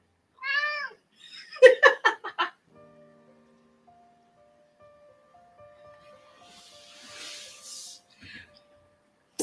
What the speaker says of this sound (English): You can hear him going, meow.